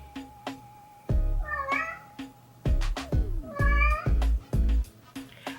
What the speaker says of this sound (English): I apologize for a cat meowing in the background